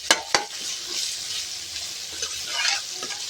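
Ginger garlic paste and turmeric frying and being stirred in a pan for mushroom curry, a steady soft sizzle with two sharp utensil knocks at the start and faint scraping throughout.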